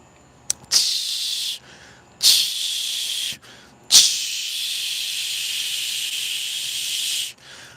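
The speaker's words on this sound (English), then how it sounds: "I'm going to sear this" Steak searing over high heat on a charcoal grill, three loud, close bursts of hissing, each starting abruptly, the first two short and the last sustained for several seconds before cutting off.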